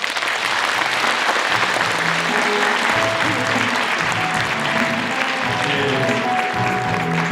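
An audience applauds at a unification rally opening ceremony in the Chungcheong region, with loud, dense, sustained clapping throughout and faint voices underneath.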